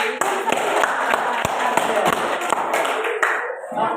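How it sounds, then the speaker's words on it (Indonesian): A school class claps in applause, a dense burst of quick hand claps with a few louder individual claps, fading out after a few seconds. "Tepuk tangan buat."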